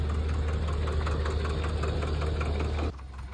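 A heavy diesel tractor engine idles steadily with a knocking rumble close up, then cuts off abruptly near the end.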